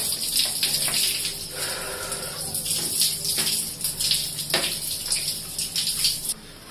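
Running water pours over the plastic front cover of a window air conditioner being washed, a loud steady splashing gush with shifting spatter as the cover moves under the stream, no talking.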